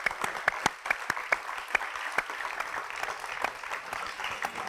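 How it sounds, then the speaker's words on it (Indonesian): Applause from a studio audience on a variety talk show, fairly faint with a handful of sharper individual claps standing out over a thin, continuous patter of clapping. "saat kamu mendengar tepuk tangan yang sangat banyak dan keras sekali"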